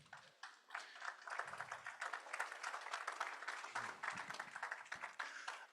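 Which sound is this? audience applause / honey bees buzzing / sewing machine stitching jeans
audience applause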